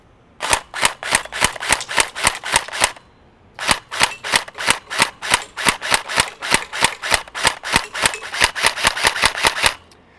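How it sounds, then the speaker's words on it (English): An LCT AK airsoft electric blowback rifle fires crisp, sharp single shots in a steady rhythm, a run of about ten, a brief pause, then a longer string of around twenty, loud and close. "let's fire off a couple rounds"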